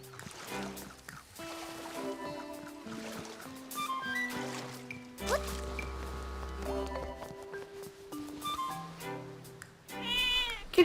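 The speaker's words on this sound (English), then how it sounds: "Kitty cat!" A cartoonish cat meows near the end in The Legend of Zelda: Echoes of Wisdom, a short mewing call that rises over steady melodic game music.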